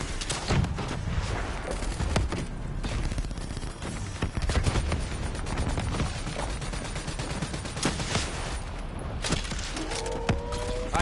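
Dense, continuous gunfire in the Call of Duty: Black Ops 3 campaign, loud automatic bursts and impacts overlapping without pause, with mechanical clatter and a brief tonal effect near the end.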